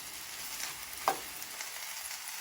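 Mama instant noodles stir-fried with vegetables, giving a soft, steady frying sizzle with a single light clack of a utensil midway, fairly quiet and without talk.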